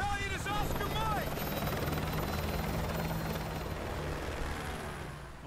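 Helicopter rotor drone in Call of Duty Modern Warfare 2 Remastered, a steady heavy low thrum that continues throughout, with brief chirpy radio-like sounds at the start and faint voices under the engine noise.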